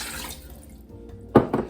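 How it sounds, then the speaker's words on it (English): About two cups of water are poured into the bottom of an Instant Pot, a brief splashing gush arriving near the end after a quieter lead-in. "I'm going to add some water to the bottom."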